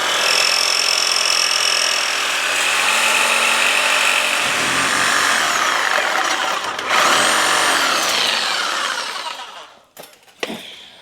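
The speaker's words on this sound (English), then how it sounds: "Now we're gonna go ahead and do some cutting." A loud power tool grinds and cuts steel on a 1976 Ford crew cab 4x4 Super Duty frame, its pitch shifting as it bites, before spinning down near the end.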